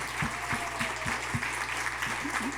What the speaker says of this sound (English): One more round of applause for Katie.